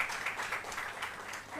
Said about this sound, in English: Let's give her a round of applause as she asks her question.